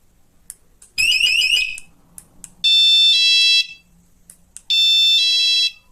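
Three loud, shrill electronic home alarm siren blasts from a Tiiwee X1 alarm, about a second each, separated by short pauses and faint clicks, the first warbling, the later two steady.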